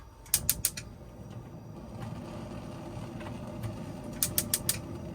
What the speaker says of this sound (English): So in the kitchen area, you've got a 3 gas burner with ignition.